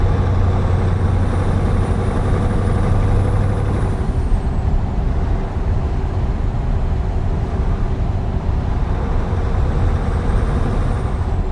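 Scania truck engine in Euro Truck Simulator 2, a loud continuous drone with a shift in pitch partway through and a faint high whine above, no voices.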